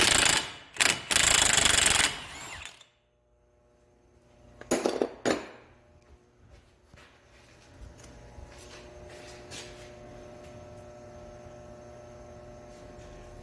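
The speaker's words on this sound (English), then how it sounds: "Use my impact gun to remove the nut." An impact gun with a 33 mm socket removes the wheel hub nut on a 2000-2009 Chevy Impala. Two loud, harsh rattling bursts, one long and one short, are followed by a steady low hum and faint tool clinks.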